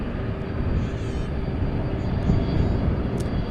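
A UPS Boeing 767 jet departs the airport, a loud, steady low roar of engines filling the air without a break, a faint high whine above it, and no one speaking.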